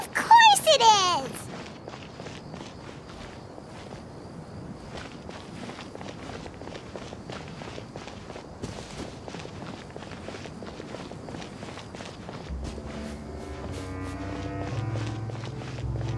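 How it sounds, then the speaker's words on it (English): Quick, soft footsteps of a character running on sand in Genshin Impact, steady and close throughout, with a brief chime at the start and game music swelling in near the end. "running on sand is so tiring"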